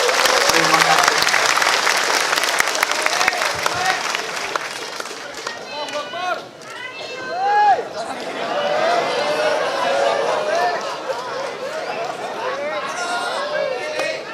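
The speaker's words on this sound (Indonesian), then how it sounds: "Tepuk tangannya." Audience applause with clapping and crowd chatter at a humorous religious talk by a preacher in South Korea, October 2017; sustained dense clapping from a large crowd, dipping briefly midway then swelling again.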